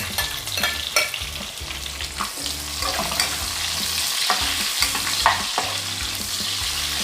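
Onions sautéing in a pan after browned garlic for a Filipino monggo dish with alugbati and chicken: a steady, close sizzle with repeated scraping stirs and light knocks of a utensil against the pan throughout.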